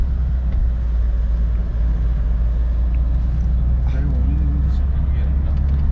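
A car engine strains up a steep ghat road toward Ooty in second gear, giving a loud, constant low drone heard from inside the cabin, with brief voices over it.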